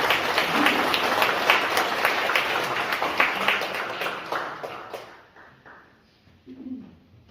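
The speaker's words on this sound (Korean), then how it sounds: "따뜻한 박수 부탁드리겠습니다" A congregation applauds warmly in a ground-floor chapel: dense, sustained clapping that thins out and fades away, with a brief voice after it dies down.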